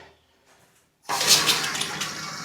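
After near silence and a faint click, water suddenly gushes in as newly connected plumbing is switched on, a loud rushing flow that starts abruptly and continues steadily to the end, with no talking.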